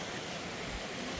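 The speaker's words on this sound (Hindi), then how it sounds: "ये देखो पास में एक झरना भी बह रहा है" A mountain waterfall in the hills on the Rampur to Kalpa route in the Spiti Valley, a steady broadband rushing hiss of falling water, continuous and even, with no voices.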